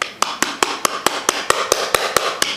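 Sharp metallic taps of a screwdriver hitting a part down on a Nerf Maverick REV-6 blaster, struck at a steady rhythm, about a dozen hits, close and fairly loud with short ringing decay.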